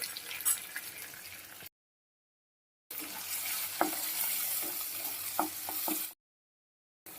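Ground cumin and chilli paste with turmeric and salt frying in hot oil in a pan for a vegetarian potato, pointed gourd and soya curry, a steady close sizzle with scraping stirs, broken by two short silences.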